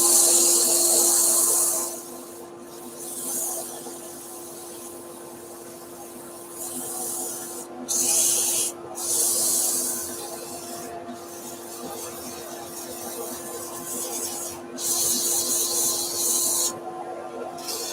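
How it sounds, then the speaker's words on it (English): Coarse abrasive sanding a wooden bowl on a lathe, a steady hissing rasp over a constant motor hum, swelling and easing as the paper is pressed and lifted. "I keep sanding with this coarse abrasive until they've gone"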